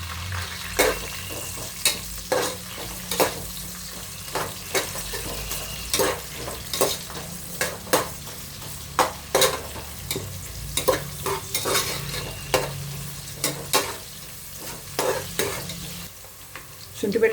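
Onions fry in hot oil with whole spices in a pan, a continuous sizzle broken by frequent rhythmic scrapes and knocks of a spatula stirring, close and distinct, with no talk.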